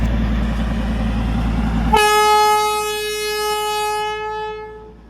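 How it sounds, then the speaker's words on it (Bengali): The Darjeeling toy train arrives at Batasia Loop in heavy rain, blowing a loud, sustained horn for a few seconds over the steady hiss of rainfall before the sound fades. "টয় ট্রেন আসছে।"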